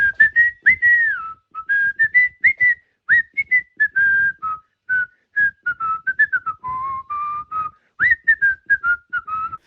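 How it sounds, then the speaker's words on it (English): A person whistles a lively melody in short, bright phrases with brief pauses between notes, clear and close, with no talking. "dancing to his own whistled version"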